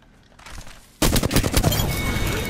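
Enemy gunfire in the Apex Legends battle royale shooter, coming from far off: quiet at first, then a sudden loud burst of rapid automatic shots that settles into sustained firing for the rest of the moment.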